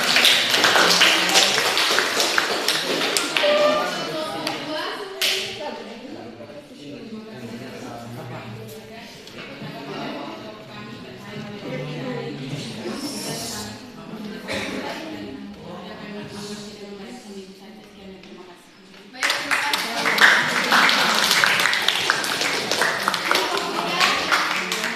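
Students in a high school classroom clap their hands in a dense burst, then people talk for a stretch before another round of clapping starts up near the end.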